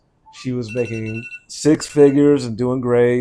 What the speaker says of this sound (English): That was my alarm saying to take a shower.